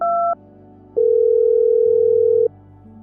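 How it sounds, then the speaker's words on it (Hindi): A telephone call tone heard while ringing a friend: steady electronic tones in alternating pitches, a short high pair followed by a long sustained beep, clean and alone. "फोन करके पूछ लेता हूँ मेरा सामान सही सलामत तो है ना"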